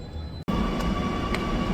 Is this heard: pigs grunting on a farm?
no